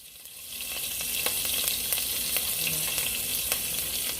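Oil heats in a pan before beef kidney goes in, giving a steady, close hiss and crackle of sizzling with scattered small pops and no talk.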